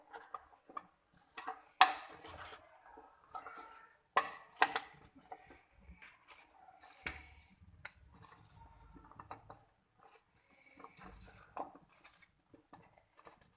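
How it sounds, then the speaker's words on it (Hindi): Salt and chili flakes being stirred into an egg mixture for egg-coated french fries, heard as scattered scraping and tapping of a utensil against a bowl at close range, with intermittent louder clinks and no talking. "अब हम इसे सही तरह से मिक्स कर लेते हैं।"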